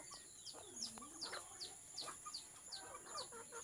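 Chickens clucking repeatedly, with short sharp calls in an irregular rhythm over a faint steady background hum.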